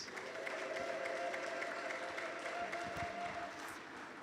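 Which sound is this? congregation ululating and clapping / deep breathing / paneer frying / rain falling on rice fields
congregation ululating and clapping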